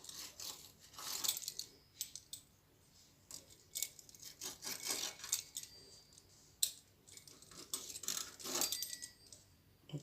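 A knife slicing through homemade sardine pastry, giving repeated scraping, rasping strokes in irregular bursts across the clip, fairly close with no talking.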